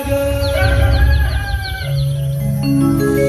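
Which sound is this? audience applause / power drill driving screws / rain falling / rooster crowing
rooster crowing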